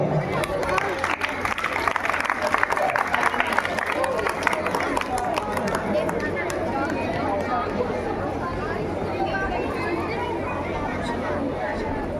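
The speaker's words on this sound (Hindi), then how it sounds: "जोरदार तालियां" Sustained applause and crowd chatter from an audience at a Ramleela stage performance of the Ramayan, with broad clapping noise filling the clip at steady loudness and easing slightly toward the end.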